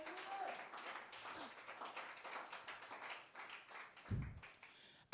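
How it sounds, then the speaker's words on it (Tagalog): A church congregation clapping during a New Year's Day worship service, soft scattered hand claps in an uneven rhythm, fairly faint and distant, with one brief low thump near the end. "Palakpak para sa Panginoon"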